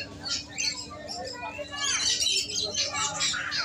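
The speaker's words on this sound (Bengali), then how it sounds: "বিভিন্ন রকমের পাখি" Many birds chirp and tweet in a dense, overlapping chorus at a bird market in Serampore, India, with a steady hum and voices murmuring underneath.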